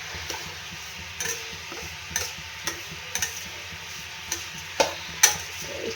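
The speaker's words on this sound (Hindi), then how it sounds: "इसको मैं अच्छे से घी के अंदर भूनूंगी, बिल्कुल धीमी आँच में" Semolina roasting in ghee over low heat, a faint soft sizzle with light, spaced clicks and scrapes of a spoon stirring against the pan, close but quiet.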